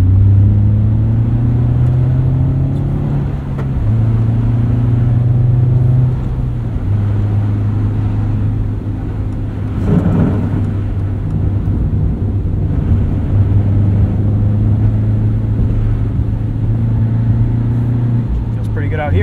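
A 2022 Subaru BRZ on Falken Winterpeak F-Ice 1 winter tires drives through wet snow and slush, its steady low engine and road rumble continuous throughout with a person talking over it.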